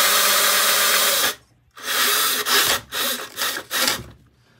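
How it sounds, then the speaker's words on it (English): Foam being rubbed down by hand during an RC truck build, a loud, close, raspy scrubbing that runs continuously before a short pause, then returns as four separate back-and-forth strokes. "I was rubbing the stuff down there, the foam."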